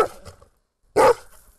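An eight-month-old German shepherd training as a rescue dog barks, with a short burst of close barks followed after a brief silence by one loud, sharp bark.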